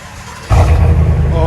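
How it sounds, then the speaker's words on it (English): GMC Sierra 6.2L pickup fitted with a Flowmaster Super 10 Outlaw race muffler, its exhaust suddenly barking into a loud, deep rumble close by after a quiet moment. "We swapped it out for a Super 10 race muffler Outlaw."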